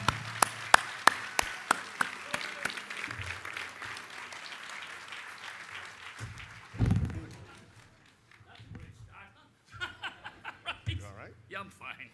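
Warm applause from a gala awards audience for honoree Bill McGonigal, a steady wash of clapping with a few chuckles that fades out, followed by someone speaking.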